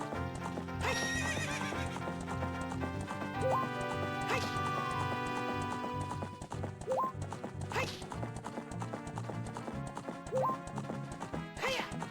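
A horse in The Legend of Zelda: Ocarina of Time gallops with rhythmic clip-clopping hooves and gives several loud whinnies over game music, with a few sharp hits mixed in.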